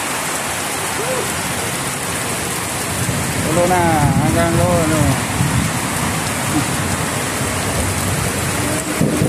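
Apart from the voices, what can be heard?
heavy rain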